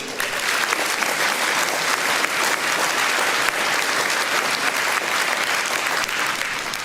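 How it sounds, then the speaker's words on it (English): A crowd claps in sustained, dense applause at a political rally that stays steady and loud throughout, with no voices standing out. "Can I get a round of applause?"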